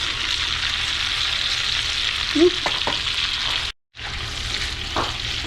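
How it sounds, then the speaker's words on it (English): Foraged wild mushrooms, boletes, chanterelles and milk caps, sautéing in melted butter in a pan, a steady close sizzle with a few clinks of stirring and a brief dropout. "I got some butter melting, and I'm just basically just going to do a wild mushroom medley saute"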